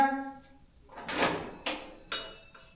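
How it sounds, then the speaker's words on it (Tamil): A new heavy iron temple door is swung open, giving a faint scraping creak followed by two sharp clunks of metal, heard up close after a brief voice at the start. "ஐயா புது கதவை திறந்து பாருங்க"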